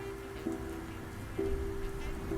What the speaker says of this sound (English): The ambient rain and the piano melody, that's how you know it's scary.